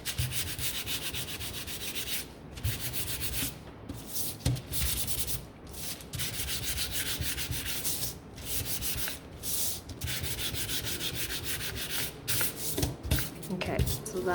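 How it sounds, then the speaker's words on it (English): Hand sanding along the wooden edges of an easel sign stand base, a steady close rasping rub repeated in strokes with brief pauses between passes, continuous for the whole stretch. "I'm just going to come in here and give this a sand"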